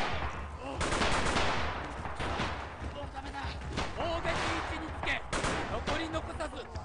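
Type 100 submachine gun fire in Red Orchestra 2 during a Japanese assault on a village, with dense, continuous bursts and overlapping shots throughout, loud and busy against a battlefield backdrop, with voices mixed in.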